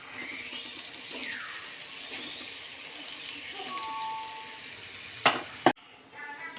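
Vermicelli frying with tomato in a pan, with a soft continuous sizzle and stirring scrapes, then a couple of sharp clanks near the end before the sound drops away.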